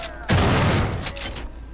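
A single loud shotgun blast fired into a wall in the System Shock 2 Ponterbee mod, a sharp close boom with a short decaying tail.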